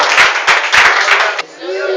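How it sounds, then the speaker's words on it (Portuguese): A church congregation claps in praise during a Portuguese-language service, with several loud, rhythmic bursts of clapping close by before it gives way to voices. "Podemos aceitar e aplaudir o nome do Senhor"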